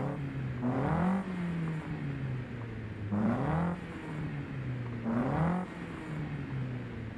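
A car in Forza Horizon 5 with a non-original, crackly engine revs three times in a steady rhythm, each rise and fall loud and close over a continuous idling drone.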